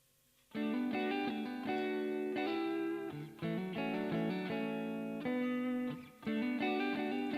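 Sustained electric guitar chords ring out in washy, reverberant phrases, with no talking.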